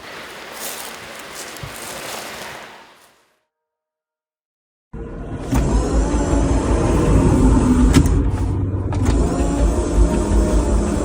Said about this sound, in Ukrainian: Так звучить наш автомобіль після того, як він поїздив по Харківській області і знімав репортажі для вас.